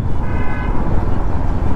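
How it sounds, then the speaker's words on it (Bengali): Single horn of a GTXL V4 Special Edition sports motorbike gives a brief mid-pitched toot at close range over a steady low engine and road rumble, no voices. "বাইকটার হর্নটা আরেকটু ভালো হতে পারতো, সিঙ্গেল হর্ন ইউজ করা এটাতে"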